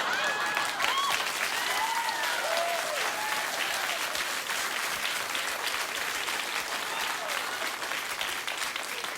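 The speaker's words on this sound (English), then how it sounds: "You're just applauding so I won't shout at you again." A television talk show studio audience claps steadily and loudly, with a few scattered whoops and cheers rising over the applause early on.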